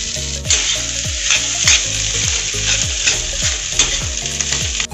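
Finely chopped potatoes frying in a spiced pan for a Mumbai masala sandwich filling, loud continuous sizzling with a regular series of stirring scrapes roughly every half second.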